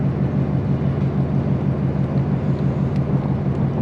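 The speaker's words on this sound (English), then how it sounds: "We're working on the race truck over there, as you can hear." A race truck engine with a broken exhaust runs at a steady idle nearby in a California workshop, a loud, continuous low rumble with a throbbing pulse and no breaks, heard alone without talk.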